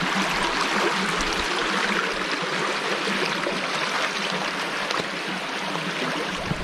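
A river stream runs over stepping stones on a forest hiking trail at Coal Creek Park in Washington, a steady, close, broadband rush and babble of water that carries on without a break and with no voices.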